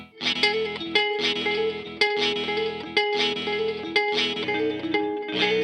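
Layered guitar loops from a micro looper effects pedal, heavily processed with reverb, chorus and distortion, repeating in a steady rhythmic cycle with bright sustained tones, loud and close, no talk.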